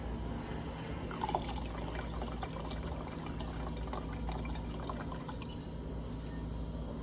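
Rum, about 2.5 ounces, pours into 1.5 cups of apple cider, making a steady, soft liquid trickle close by that runs for several seconds without any talking.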